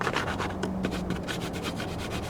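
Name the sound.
handling Mod Podge-hardened foam RC airplane nose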